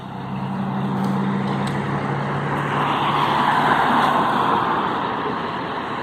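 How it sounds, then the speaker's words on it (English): Steady stream of cars and other road vehicles rolling along a downtown street in Corydon, Indiana, a continuous broadband traffic roar that swells as vehicles pass close by, with no talk over it. "The amount of cars that go by there per hour"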